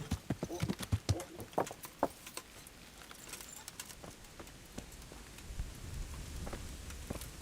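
Horse hooves clopping in the medieval role-playing game Kingdom Come: Deliverance, a quick run of sharp, close hoofbeats that thins into scattered softer steps amid faint rain-like patter.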